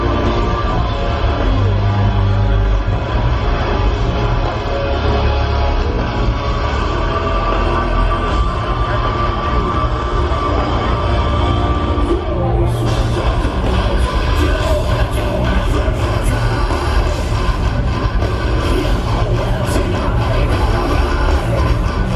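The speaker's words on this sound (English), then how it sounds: "but the crowd is all the way up the hill." Big outdoor crowd at the Welcome To Rockville rock festival, a loud continuous roar with yells and whoops spread across a wide open space, running unbroken throughout.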